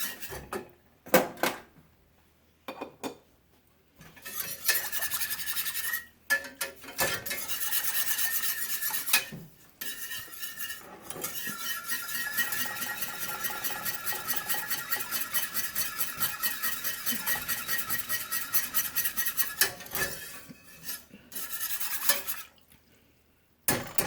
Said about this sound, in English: You want to keep stirring this so that it doesn't scorch on the bottom.